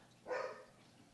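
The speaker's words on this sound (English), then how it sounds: "so the dog's got to go bark at it." A single short dog bark at something outside, faint and somewhat distant against a quiet room, heard during a gaming session.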